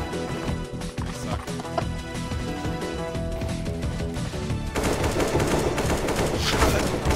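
Rapid gunfire in the video game CS:GO, dense repeated shots over a busy mix that grows louder partway through, with no talk.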